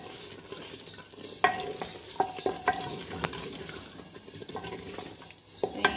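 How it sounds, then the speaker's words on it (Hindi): Boneless chicken handi is stirred in a pan, with a soft frying sizzle running underneath a few sharp spoon clinks against the pan. "इसको अच्छी तरह से हिला के फ्लेम ऑफ कर देंगे"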